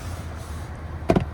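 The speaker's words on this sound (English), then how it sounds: "So we put the left side in first, and then snap it on like that." A plastic cabin filter access door on a Toyota Grand Highlander snaps into place with a sharp, close double click after quiet handling noise.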